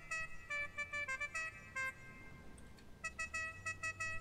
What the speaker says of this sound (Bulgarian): нови клаксони. Имаме Jingle Bells, имаме и For He's a Jolly Good Fellow.